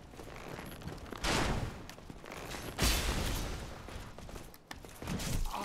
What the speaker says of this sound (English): Somebody's shooting off their bow repeatedly